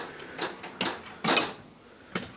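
A wrench drawer in a mechanic's tool box slides open with a few quick metallic rattles and clinks of tools shifting, close and fairly soft.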